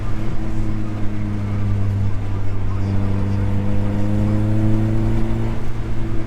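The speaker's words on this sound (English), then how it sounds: "let me see if I can downshift real quick." Honda Civic engine droning under load while driving, a steady close-up hum whose pitch holds and then shifts as the car is downshifted, with no talking over it.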